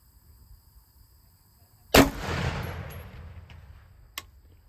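A single rifle shot, fired at a 300-yard target through an LPVO scope, cracks sharply and loudly with a rolling decay, followed a couple of seconds later by a faint distant impact tick.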